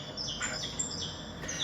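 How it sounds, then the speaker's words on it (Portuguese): Birds singing outdoors: faint, high chirps repeating in a quick, irregular series over a soft background hiss, with no talk. "Olha só os cantos dos pássaros"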